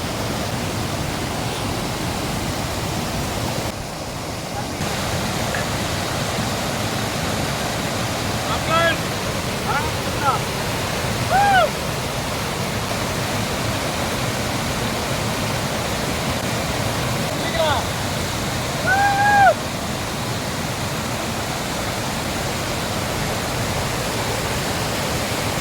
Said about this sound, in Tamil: தண்ணி ஆர்ப்பரித்து கொட்டுங்க.